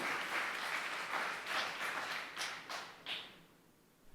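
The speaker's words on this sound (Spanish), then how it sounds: "Si le vamos a dar un aplauso al Señor, hermano, vamos a dárselo que verdaderamente sea para Él." A church congregation claps for the Lord during a sermon, a soft, somewhat distant applause that swells in a few bursts and fades toward the end, with no voices over it.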